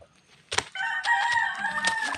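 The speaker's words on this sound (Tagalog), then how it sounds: "May manok." A farmyard rooster crows near a family home beside rice fields, one long rising-and-falling call that starts with a sharp onset and holds steady for well over a second, loud and fairly close.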